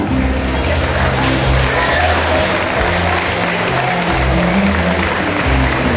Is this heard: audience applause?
yes